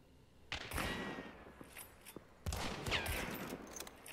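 Gunfire in the zombie-infested shooter Hunt: Showdown, a few sharp reports around one and two-and-a-half seconds amid ambient game noise, moderately distant and without talk.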